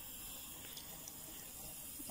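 Water runs steadily from an outdoor tap while a small child washes hands at a campsite in Hungary, a continuous close splashing hiss with no talk over it.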